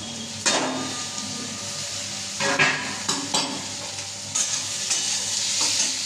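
Food frying in a wok, a constant sizzle broken by several louder scrapes and clatters of a utensil stirring against the pan, close and fairly loud.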